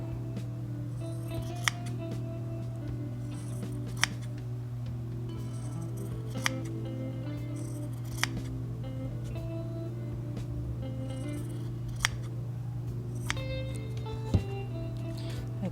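Scissors trim excess fabric from a sewn turban-style headband, a series of sharp snips spaced every couple of seconds over a steady low hum.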